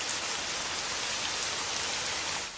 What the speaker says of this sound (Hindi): ये बिना मौसम की गुजरती हुई बारिश हमें क्या संकेत देती है?